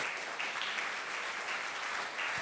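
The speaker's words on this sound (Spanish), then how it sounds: "dale fuertes palmas a ese Dios poderoso" A church congregation claps hands together in praise, a dense, steady burst of applause at moderate distance.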